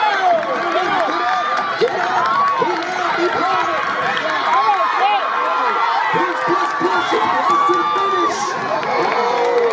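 Spectators at a varsity men's 4x100 relay at a high school district track championship yell and cheer constantly, a close, dense mix of excited voices and shouts with some clapping.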